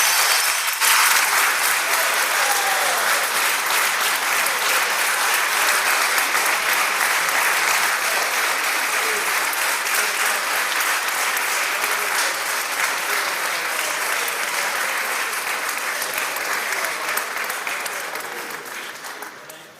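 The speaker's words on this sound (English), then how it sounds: "Let's give these ladies a round of applause" Sustained round of applause from legislators on the Mississippi House floor, a dense, loud wash of clapping that runs steadily for nearly twenty seconds before tapering off at the end.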